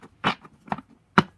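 Three quick riffling bursts of a deck of playing cards being shuffled, close and crisp, separated by short pauses.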